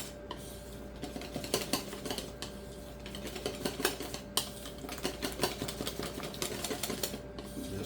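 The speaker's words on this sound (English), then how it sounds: "Just whisk it." A whisk clicks steadily against a bowl while beating thin crepe batter, a French pancake batter for chicken-stuffed crepes in mornay sauce; quick, close, rhythmic taps over a faint background hum with no talking.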